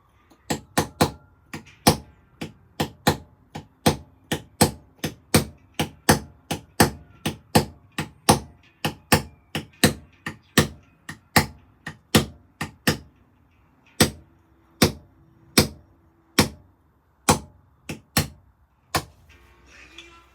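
Steady run of sharp, ringing metal strikes as a hammer drives a chisel into stone during carving, about one or two blows a second, close and loud with brief pauses and no talk.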